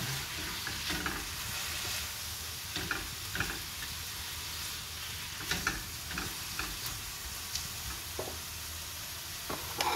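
A hot dog sizzles steadily in a frying pan for Filipino spaghetti, with a constant close fry hiss under scattered clicks and stirring taps.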